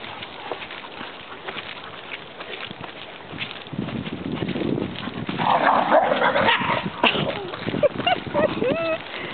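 Dogs romp together outdoors in a park, with scuffling and a few sharp barks rising toward the end, mixed with footsteps and a person calling to them.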